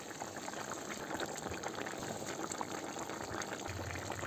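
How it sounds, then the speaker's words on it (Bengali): Mustard-paste tilapia curry bubbling in a pot makes a dense, continuous boil and liquid churn, with a low thump near the end as fish go in; nobody speaks. "ঝোলটা ফুটে গেছে। এবার একে একে মাছগুলো দিয়ে দেবো ঝোলে।"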